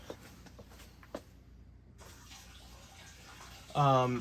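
Water flushes steadily through a DI resin filter cartridge on a reef aquarium RO/DI water system. It makes a faint, low hiss with a short quiet gap, and a brief voice cuts in at the end.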